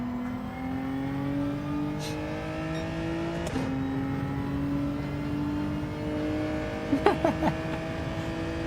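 Group 4 race car engine in Gran Turismo 7 held at steady high revs while drifting, with droning harmonic tones rising and falling, a few brief shifts and sharper bursts near the end.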